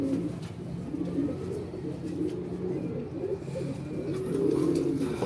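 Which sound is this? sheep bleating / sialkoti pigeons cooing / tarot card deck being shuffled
sialkoti pigeons cooing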